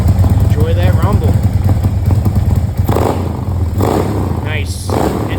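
A 143 cubic inch Milwaukee 8 motorcycle engine rumbles loudly and steadily at close range, a deep pulsing low throb with mechanical clatter and a few brief surges, while a voice talks over it.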